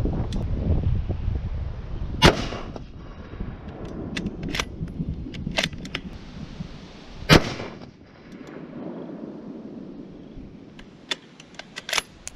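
Sharp, loud rifle shots from a Remington 700 PCR in 6.5 Creedmoor, two big reports several seconds apart plus smaller cracks, ringing over a steady outdoor wind-like background at a shooting range.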